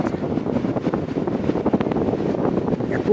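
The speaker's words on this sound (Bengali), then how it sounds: "এত হাওয়া প্রচণ্ড হাওয়া উঠেছে" Strong wind buffets and roars against the microphone in a continuous low rumble at the Puri Rath Yatra, with faint water noise underneath.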